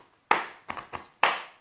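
Indonesian scout clapping routine (tepuk pramuka) performed in a rhythmic pattern: a sharp clap, two quicker softer claps, then another loud clap, close and clear with no talking.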